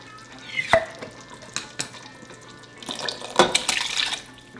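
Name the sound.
adding a quart of diced tomatoes to chili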